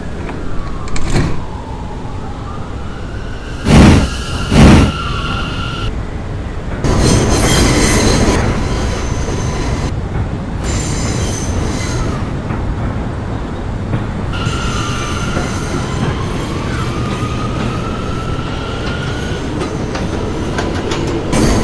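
An R179 M subway train runs between stations on the Myrtle Avenue line, a loud steady rumble of wheels with clickety-clack rail joints, bursts of banging and squealing wheels, and rising and falling motor whine.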